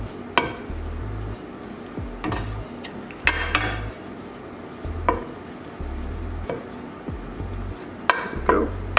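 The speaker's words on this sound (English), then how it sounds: "Just don't forget to toss the potatoes." Potato wedges tossed in a pan make intermittent clanks and scraping bursts over a low background, with faint kitchen noise between tosses.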